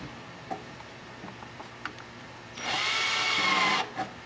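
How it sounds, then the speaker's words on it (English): A power drill works on spot welds on a 2010–2015 Chevrolet Camaro SS, first a few faint taps and knocks, then a loud whining burst of about a second before it stops, close by. "we're gonna try and drill out these spot welds"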